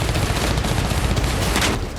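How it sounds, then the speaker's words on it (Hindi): Rapid gunfire in Bakhmut during the Ukraine war, a dense, continuous volley of loud cracking shots with no break throughout, and no speech. "अब बाखमुत की तस्वीरें देखिए। ताबड़तोड़ गोलियां चल रही हैं।"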